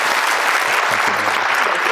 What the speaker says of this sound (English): I would ask you to give a big round of applause for Wendy for her 20 years of dedicated service.